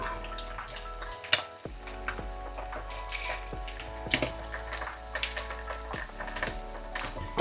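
Eggs fried in a pan with parsley: a steady, crackling sizzle with scattered pops, close and moderately loud, with one sharp clack near the start.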